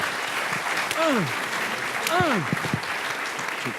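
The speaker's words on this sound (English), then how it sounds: "Big round of applause to our amazing panel tonight" A seated audience applauds a panel at an evening sales-career event, dense steady clapping filling the room while a voice speaks briefly over it.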